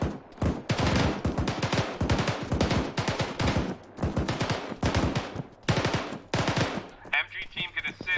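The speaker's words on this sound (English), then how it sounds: "There's rifle fire coming." Rifle and machine gun fire in a military video game rattles in dense, loud bursts of rapid shots that repeat for several seconds, with brief gaps between volleys and a lighter, higher-pitched burst near the end.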